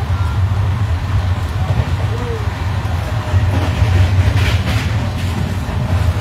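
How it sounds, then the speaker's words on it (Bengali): A train rolls past nearby with a continuous heavy low rumble and faint rhythmic wheel clatter, steady for several seconds, while a voice is faintly audible underneath. "ট্রেনটা যাচ্ছে তো"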